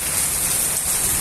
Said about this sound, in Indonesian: Ini lagi hujan.